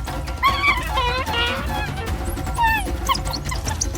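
A wild dog yelps as a leopard strikes from ambush, giving a few sharp, pained cries over a steady bed of ambient noise.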